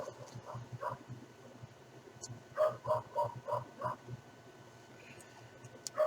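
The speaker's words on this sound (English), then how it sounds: "I'm going to apologize if you guys hear the dogs barking." Dogs bark faintly in the distance, a short run of muffled barks in the middle under low background noise, with a few scattered yips earlier.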